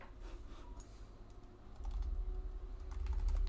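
Computer keyboard typing while setting up a configuration file, soft rapid key clicks under a steady low hum that grows louder partway through.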